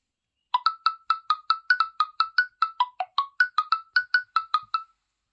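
A quick run of about twenty short musical keypad tones, each note slightly different in pitch, played in a steady rhythm like a tinkling melody.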